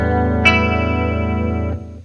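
A guitar chord with all strings sounding together, rich and sustained through an effects unit with a slight distorted, chorused shimmer, ringing steadily close up for under two seconds before being cut off and fading.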